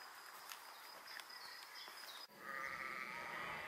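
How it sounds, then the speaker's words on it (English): Sheep bleat in the background at a staging area for a large RV rally convoy, a faint sustained bleat rising over ambient outdoor noise in the later half. "We've got the sheep in the background"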